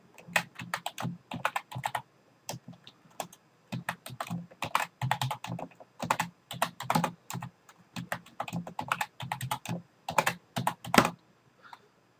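Fingers tap out a password on a computer keyboard during a WordPress setup, a close, steady stream of crisp keystrokes in quick bursts with brief pauses between them and no talking.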